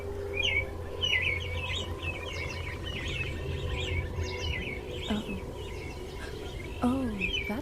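A flock of songbirds chirps and tweets in quick bursts, moderately close, over a low background rumble. A faint voice appears briefly.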